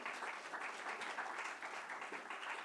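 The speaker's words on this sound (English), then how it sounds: "I think this definitely deserves an applause" Moderately distant audience applause at a finance conference session, continuous clapping with a gentle rise and fall, heard fairly faintly.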